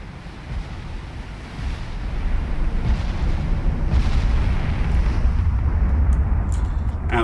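Warships in the Ultimate Admiral Dreadnoughts naval game firing their guns, a continuous heavy rumble of booming gunfire and surf-like roar that swells and stays loud throughout, with no talk.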